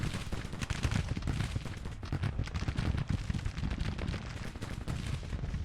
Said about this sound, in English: we're hitting them with Cannon shot